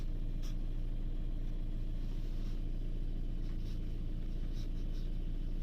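A warm Fiat Linea diesel engine idles steadily after a drive, giving a constant low rumble with a fine rapid rhythm. A few faint ticks and clicks sit above the hum.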